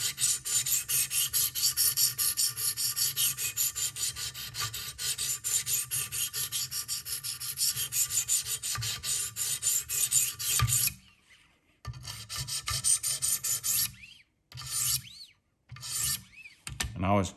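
A Buck 422 Bucklite knife is worked on a Wicked Edge sharpener in rapid, continuous rasping strokes for about ten seconds. Short bursts of strokes follow, separated by brief pauses. No one speaks.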